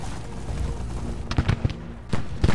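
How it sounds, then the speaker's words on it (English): Musket and artillery fire from a Civil War battle in the strategy game Grand Tactician, several scattered low booms and cracks at a moderate distance over a steady rumbling battlefield background. "Gunfire is getting deadlier and deadlier."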